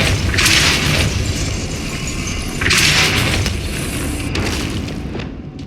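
Depulso spell being cast in the Hogwarts Legacy video game, heard as two loud, booming magical blasts a couple of seconds apart over a dense, continuous rumbling game soundscape.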